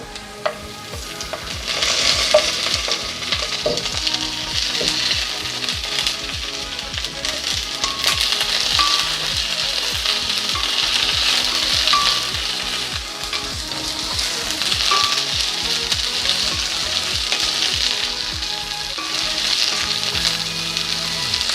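Green chilies and curry leaves fry in hot oil with a steady, dense sizzle and crackle that lasts throughout, along with occasional stirring clinks and scrapes, and no one speaks.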